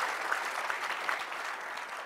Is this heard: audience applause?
yes